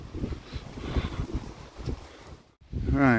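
Gusty wind buffets the microphone in steady rumbling bursts, dropping briefly to near silence before blowing hard again.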